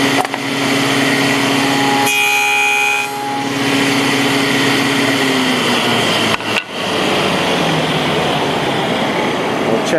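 A table saw runs loud and continuous while cutting tenons on a board guided by a miter gauge, the whine shifting in pitch as the blade bites, with a brief dip in the middle before the steady cutting noise returns.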